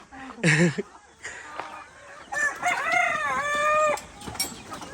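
Backyard chickens in a coop: a rooster crows once loudly near the start, then a second longer crow follows, with scattered clucks in between over a faint background.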